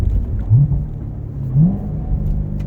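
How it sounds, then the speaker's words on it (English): A Chevrolet C7 Corvette Grand Sport engine rumbles steadily with two quick rising revs, rev-matched throttle blips as gears drop, without any talking. "you can hear it downshifting there, hopefully on the audio"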